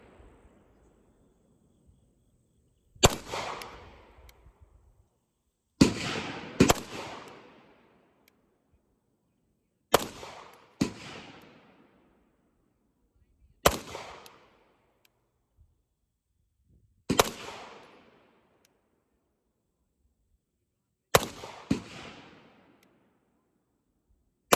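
Pistol shots at an outdoor shooting range, six loud cracks at roughly four-second intervals, each followed by a short echoing tail, with near silence in between.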